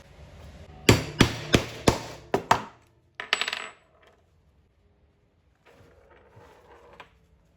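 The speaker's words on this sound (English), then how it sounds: "I'm just putting a hole here so that I can put the poppers through the fabric" A hole is punched through fabric for poppers, heard as a quick run of six sharp knocks in an even rhythm, then a brief rattling scrape, close and distinct, followed by quiet and faint handling noise.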